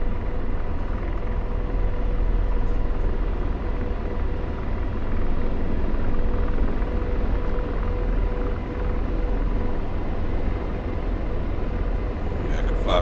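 Helicopter rotor and turbine drone in a DCS flight simulator, a steady, loud low rumble with a droning hum throughout, the rotor running at low RPM.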